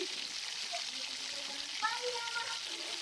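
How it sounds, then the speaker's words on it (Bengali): Fish sizzles softly in spiced oil with tomatoes, a steady low frying hiss with faint bubbling and occasional stirring sounds. "আমি কিন্তু ওই মশলা তেলের উপর একটু ভাজা করে নিচ্ছি"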